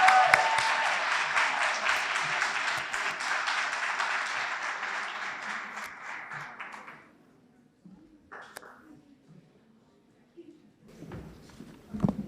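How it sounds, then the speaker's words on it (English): Applause at a university induction ceremony: a full round of clapping from the audience runs loud for about seven seconds, then fades out, leaving a quiet room with a few scattered taps and faint movement. "Let's give our inductees a round of applause."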